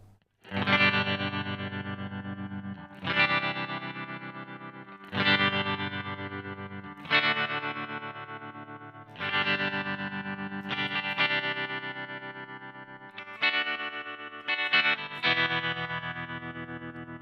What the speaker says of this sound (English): So fairly straight ahead tremolo sound.